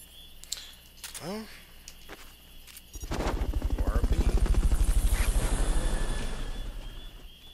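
A helicopter in the video game Metal Gear Solid: Peace Walker, loud rhythmic rotor thumping that swells in and holds for several seconds, preceded by game chirps and effects, with a person talking over it.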